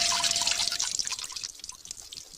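Cartoon water splashing and dripping onto a floor, a bright wet spatter of drips and trickles that starts loud and thins out over a couple of seconds, with no talking.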